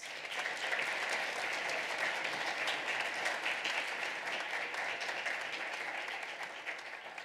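Sustained, even applause from a school assembly audience honoring student award winners, steady and dense throughout before tapering slightly at the end.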